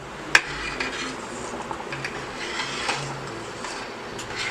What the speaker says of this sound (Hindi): अब इसमें ये हम कच्ची कैरी का ये पेस्ट डाल देते हैं और थोड़ा मिक्स कर देंगे इसको